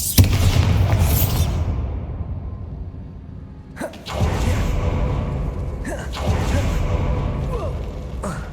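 Bombarda spell blasts in Hogwarts Legacy: a rumbling game soundscape broken by sudden booming bursts with whooshing debris, one heavy impact midway and another shortly after, loud and close.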